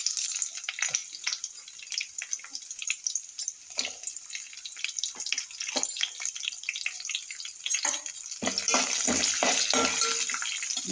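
Peanuts, onion and cumin frying in oil in a pan, a close crackling sizzle with many sharp pops and spits, growing denser and louder toward the end.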